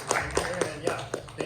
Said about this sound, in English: let's give a final round of applause